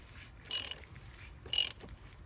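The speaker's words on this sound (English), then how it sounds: "now we use our 32mm socket and we're going to snug this down" A 32mm socket on a ratchet snugs down the oil filter housing of a BMW X5 E70 35d diesel, giving two short, bright ratcheting bursts about a second apart, close up, against a quiet background.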